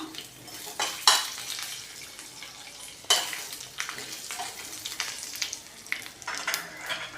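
Tempering spices (urad dal, mustard seeds and cumin) frying in a little hot oil, with crackling sizzle broken by spoon scrapes and clinks against the pan, close up.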